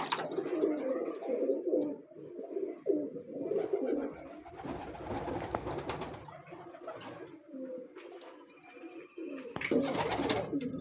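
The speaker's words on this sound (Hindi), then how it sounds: "देखिए जरा कबूतर देखिए" Teddy breeder pigeons in a loft in Lahore coo repeatedly in low, throaty, overlapping phrases, close by, with brief higher chirps and some rustling between bursts.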